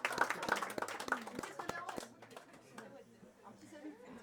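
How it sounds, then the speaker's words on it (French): A small group clapping together in a meeting after reaching a goal, a short burst of sharp, distinct claps that fades after two seconds into quiet room chatter and talk. "quand on arrive à un objectif, bah, on s'applaudit"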